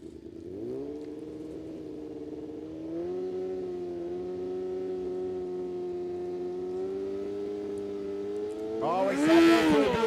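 A BMW drag-racing motorcycle holds a steady, droning high-rev engine note at a dragway, then surges into a louder, rougher roar as it launches, with announcer commentary running over it.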